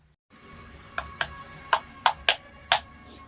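A hammer taps an e-rickshaw gear motor part into its seat in a workshop repair, giving six sharp, separate metallic knocks at uneven intervals over a faint hum, with no speech.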